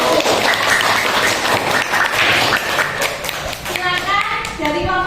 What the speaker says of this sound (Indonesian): Ini kita beri aplaus presentasi dari kelompok 1.